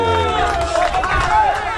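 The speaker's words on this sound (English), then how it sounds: "make some noise for La Máquina, Lucas Matthysse." Crowd at a boxing weigh-in cheering and roaring continuously as a fighter walks to the scale, a dense hubbub of voices and shouts.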